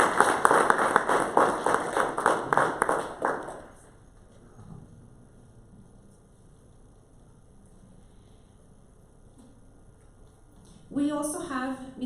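An audience at a STEM forum panel breaks into a burst of warm applause that fades after a few seconds into a quiet room, followed by a voice at the end.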